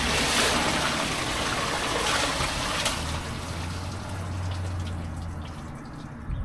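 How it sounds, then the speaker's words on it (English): A bucket of water being poured down into an engine block during a rebuild, a continuous rushing, splashing flow that eases off toward the end, loud and close with no voices. "I'm going to dump a bucket of water down it before I put oil in it"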